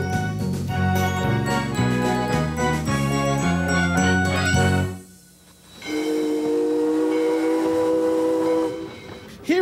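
A train horn blares in a rail yard: sustained, layered tones, a brief lull, then another long horn blast, loud and fairly close.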